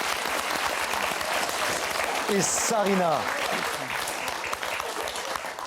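Studio audience applauding the winners of the French word game show Motus, a steady dense wash of clapping throughout with a brief voice speaking over it in the middle.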